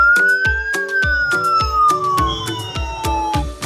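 A police siren sound effect from a kids' Little Driver toy ride-on car, a loud electronic wail sliding slowly downward over a rapid, regular clicking beat, close and without any voices.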